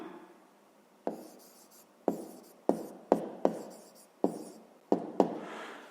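A pen writes numbers by hand in about nine short, sharp scratching strokes at an uneven pace, each fading quickly, close and clear with no talk.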